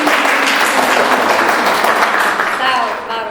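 Sustained, dense applause from an audience at an art event honoring a painter, steady and loud throughout before tapering slightly at the end.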